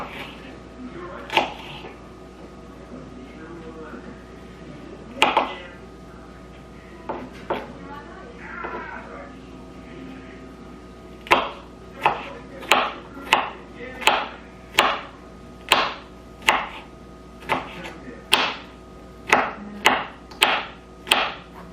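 A knife chops through food on a board while a turkey spaghetti squash skillet is prepared, scattered knocks at first and then a steady run of sharp, evenly spaced cuts close by, with a voice speaking early on.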